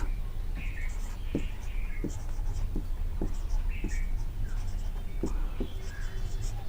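A pen or chalk writes a place name by hand, a run of faint short scratches and taps in an irregular rhythm over a quiet room hiss, with no talk.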